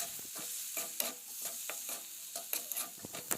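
Ginger, tomato and onion with spices fry and get stirred in a pan for a mutton curry, with a steady sizzle and repeated soft scraping strokes of the spoon close up and fairly quiet.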